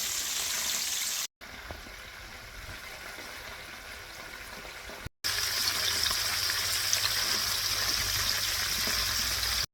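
Chicken frying in a pan over a medium flame gives a steady, close hiss and sizzle that runs almost the whole time, broken by two brief cuts.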